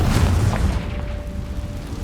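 A Confringo spell explodes in the Hogwarts Legacy video game, a deep, loud boom that rumbles and fades over about two seconds, with a faint tonal ring trailing behind.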